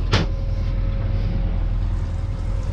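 A sailboat's motor hums at a low, steady drone nearby after a brief sharp knock at the start.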